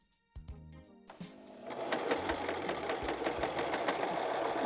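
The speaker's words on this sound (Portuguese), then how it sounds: "Costura em volta da gola" After a few light clicks, a sewing machine starts and runs steadily, stitching around a garment collar with a close, continuous whirring hum.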